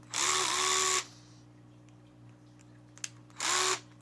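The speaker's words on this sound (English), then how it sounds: "this gyroscopic drill, man, it's DeWalt" A DeWalt gyroscopic drill whirs loudly in two bursts, a long run of about a second and a shorter one after a pause, close up in a workshop while changing differential fluid on a vehicle.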